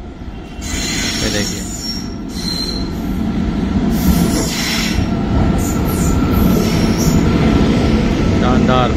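Indian Railways train running on the tracks toward Old Delhi railway station, loud close rumble with sharp wheel squeals rising over it, and a brief voice speaking early on.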